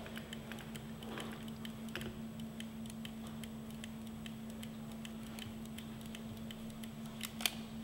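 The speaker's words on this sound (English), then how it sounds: "when it comes off of one end of the spool, it makes a sound" Small dry mechanical clicks and ticks from a film reel come at irregular intervals over a steady low hum, ending with a sharper snap as the film end comes off the spool.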